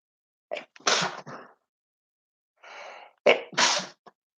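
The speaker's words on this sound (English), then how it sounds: "I'm gonna sneeze." A single person sneezing loudly at close range: a sharp intake and burst, a pause, then another breath and a forceful sneeze.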